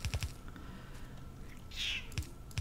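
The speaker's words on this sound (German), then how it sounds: "Oh Mann, ich werde die ganze Zeit bemautzt" A pet cat gives a single close, clear meow amid faint room noise and a few light taps.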